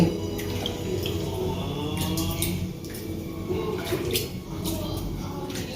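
Soybeans being washed in water while making tempe, with a steady close splashing and running-water wash broken by sloshing bursts and faint clinks of a container.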